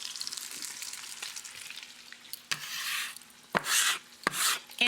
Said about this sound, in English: So I'm going to add a ton of onion to 2 bay leaves and that rendered pork fat.